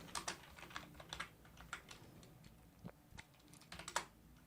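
Computer keyboard typing while working in the R statistics software, a brisk run of soft key clicks in uneven bursts with a few louder keystrokes, close and fairly quiet with no talking.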